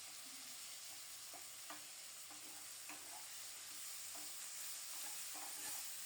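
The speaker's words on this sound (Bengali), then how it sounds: "আলুটাকে একটু লালচে করে ভেজে নেব" Potatoes fry with a ground spice paste in a pan, giving a soft, distant, continuous sizzle broken by faint scattered stirring clicks, with no talking.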